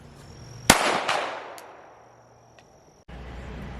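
A single sharp pistol shot fired on an outdoor shooting range with a red dot sighted handgun, loud and close, trailing off in a long echo before fading into quiet background.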